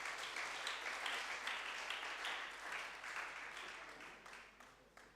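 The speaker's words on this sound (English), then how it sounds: "Give her a round of applause." Applause from the audience at a secondary school debate competition: a full round of clapping that stays strong at first, then gradually thins and fades toward the end.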